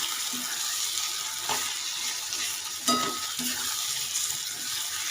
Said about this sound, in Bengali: এর মধ্যে আমি এবার দিয়ে দেব রসুন, লঙ্কা আর মাংসের যে পেস্টটা বানিয়ে রেখেছি সেইটা